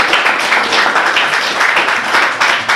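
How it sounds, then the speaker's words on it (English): A crowd at a live music performance applauds, dense steady clapping from many hands sustained close and loud for a few seconds with no voices over it. "So, round of applause for yourselves."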